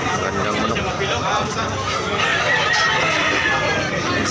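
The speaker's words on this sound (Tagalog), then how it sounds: "So beautiful rooster." A rooster crows amid farmyard chatter, its call partly masked by people talking close by throughout.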